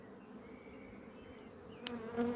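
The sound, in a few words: honeybees buzzing in an open hive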